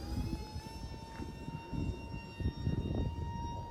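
A small E-Flite UMX F-86 4S mini RC jet flying at about 30% throttle, giving a steady high-pitched ducted-fan whine with rising tonal harmonics, fairly faint over outdoor wind rumble.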